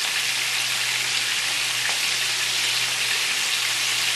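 Meatballs browning in a frying pan give a dense, even sizzle that holds close and steady from start to end, with no talking over it.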